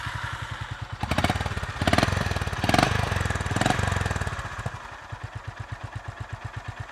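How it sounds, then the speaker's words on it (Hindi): A Honda Highness CB 350 motorcycle's exhaust idles steadily with a deep, rhythmic thump, rising briefly in a few revs before settling back into an even, bassy idle. "अभी आपको इसका एग्जॉस्ट साउंड सुनाता हूँ।"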